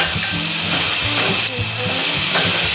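Meat sears on a Lodge Sportsman's Pro cast-iron grill, giving a loud, steady sizzle and hiss that stays close and even throughout, with no pauses.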